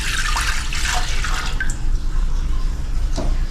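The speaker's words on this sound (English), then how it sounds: "so we're gonna put water in first" Lukewarm water splashes and trickles into a bowl for French bread dough, a continuous close pour with small drips and gurgles and no speech.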